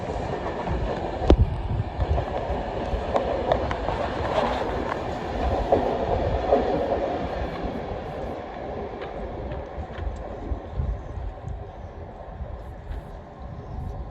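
A nine-coach Class 390 electric train bound for Birmingham New Street passes nearby with a steady rolling rumble and occasional clicks of wheels over rail joints, continuous for the whole stretch.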